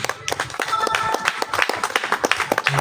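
A church congregation gives a brief round of applause, irregular hand claps of moderate loudness with scattered voices over them.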